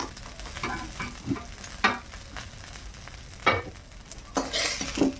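Prawns fry in hot oil while being stirred in a pan, giving a steady sizzle punctuated by several sharp scraping strokes of the spatula against the metal.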